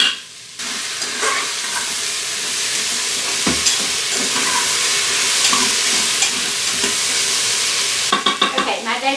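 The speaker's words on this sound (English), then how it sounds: "my veggies are getting translucent, they're cooking down" Vegetables sautéing in an Instant Pot for a paleo Swiss steak, a steady close sizzle and frying hiss with occasional stirring clinks and scrapes, continuing without talk.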